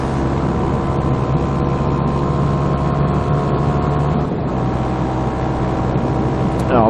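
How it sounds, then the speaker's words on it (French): A Honda CB125R motorcycle is ridden on a winding road, its engine droning loudly and steadily with wind rush close to the rider, rising slightly in pitch at the end. "comme moi je suis en moto tous les jours,"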